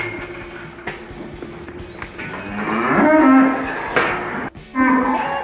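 Cattle moo loudly and repeatedly at close range during a farm TB test, with long bellowing calls rising over a background of livestock shuffling and faint knocks.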